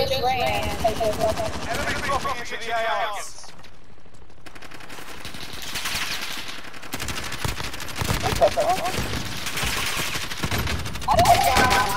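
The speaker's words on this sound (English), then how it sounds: "They're shooting!" Gunfire in Call of Duty Warzone during squad play: bursts of rapid automatic fire and scattered shots come and go across the stretch, with a brief lull in the middle, mixed with game effects.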